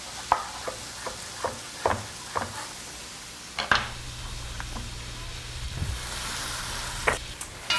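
Carrots hit a hot pot and sizzle softly under quiet clinks and scrapes of stirring, with a faint, steady frying hiss building toward the end.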